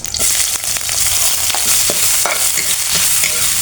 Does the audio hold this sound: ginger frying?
yes